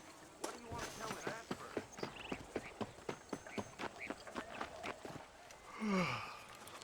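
Horse hooves clip-clop at a steady trot in the western video game Red Dead Redemption, a clear regular rhythm of close hoof falls, followed by a brief whinny-like sound near the end.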